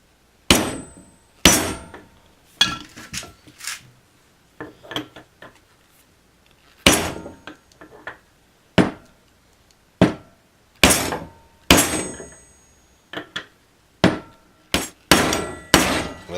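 Steel hammer blows drive a 21 mm impact socket onto a bearing's inner race during a Porter-Cable 7539 router bearing replacement: sharp, ringing metallic strikes arrive singly and in quick pairs, roughly fifteen in all, close and loud with no talking.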